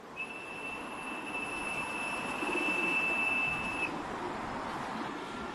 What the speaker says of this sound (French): Ceux-là, c'est mes pigeons.